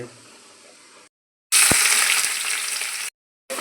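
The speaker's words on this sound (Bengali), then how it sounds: "মাছ ভেজে নেওয়া হচ্ছে, কালো জিরে দিয়ে দেওয়া হচ্ছে" Fish frying in oil with black cumin makes a bright, loud sizzle that comes in sudden bursts between short silent gaps, preceded by a softer hiss.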